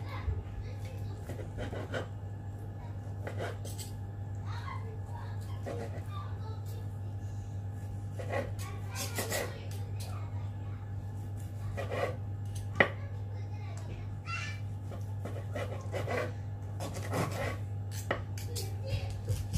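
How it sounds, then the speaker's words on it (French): Cooked chicken cut with a knife for a kebab sandwich on Moroccan bread: sparse, light blade taps and scraping strokes over a steady low kitchen hum, with a person talking throughout. "on va couper un petit morceau"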